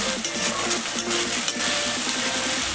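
Garlic and ginger frying in a pan for chicken curry, stirred with a utensil: a steady close sizzle with regular scraping strokes against the pan, no voices.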